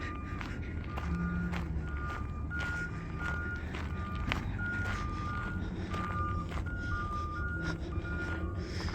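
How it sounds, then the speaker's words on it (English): A steady series of high electronic reversing beeps from a garbage truck repeats at an even pace over its rumbling idling engine, with faint background noise. "And the beeping is the trash truck."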